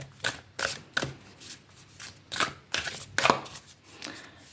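Repeated crisp riffling bursts of a tarot/oracle card deck being shuffled, cards slightly stuck together, about eight quick flutters in an uneven rhythm, close by with no voices.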